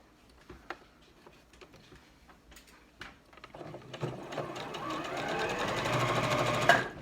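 A sewing machine stitching fabric for gloves, with a few sparse clicks and taps at first, then a steady, close, rapid mechanical whir that keeps going to the end.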